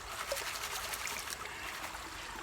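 Water is poured off and swirled in a gold pan of sand and dirt while panning in Ohio. A steady close trickle and splash with bright dribbling, and no voices.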